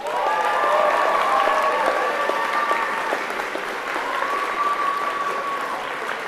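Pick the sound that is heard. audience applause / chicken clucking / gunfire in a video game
audience applause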